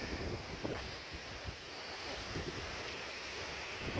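Wind sweeps through a nature reserve, a steady broadband rush buffeting the microphone with low rumbling gusts and no clear pauses.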